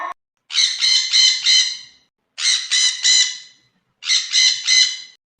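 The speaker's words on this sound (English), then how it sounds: "P for parrot. P for parrot." A parrot squawks in a children's phonics song: three loud, clear bursts, each made of several rapid harsh calls, separated by short silences, with no other sound around them.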